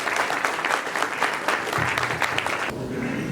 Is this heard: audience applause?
yes